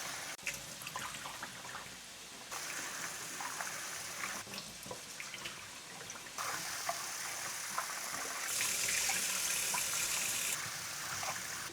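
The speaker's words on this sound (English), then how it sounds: "here I have got 300 grams of rice, and I'm just going to wash it up." A 300-gram portion of rice is washed under running water, with a continuous trickle and splash from a tap that shifts in intensity, plus sloshing and grains being stirred by hand, all at moderate level.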